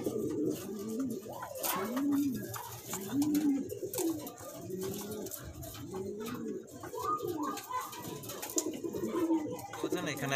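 A pair of black Bombai pigeons coos at a pigeon sale, with soft repeated low cooing under someone talking, plus faint rustling and background noise.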